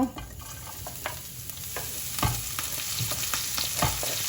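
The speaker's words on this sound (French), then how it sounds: "dans une huile bien chaude, on va mettre à rissoler nos épices" Spices frying in very hot oil, a steady sizzle broken by repeated scraping stirs and small clinks, close and continuous.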